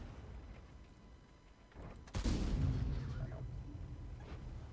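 A tank cannon fires in the video game World of Tanks: a single heavy, booming shot with a sharp crack and a rumbling tail over the game's background noise.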